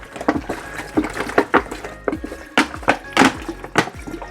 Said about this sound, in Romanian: Și vom începe să amestecăm ca să topim zahărul.